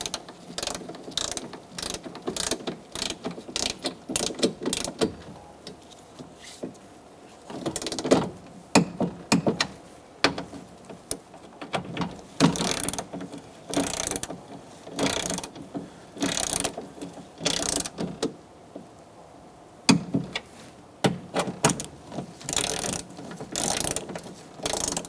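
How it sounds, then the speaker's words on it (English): Rapid ratchet clicking in repeated bursts while torquing the window motor bolts to 72 inch-pounds on a 2002-2006 Honda CR-V, close and fairly loud with short pauses between strokes. "We're going to torque our motor bolts to 72 inch-pounds."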